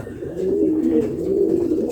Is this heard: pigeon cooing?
yes